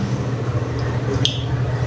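Steady rushing water pours continuously from a shallow well water pump with a bladder pressure tank, a dense low hiss, loud and close, with a brief splash near the middle and no talking.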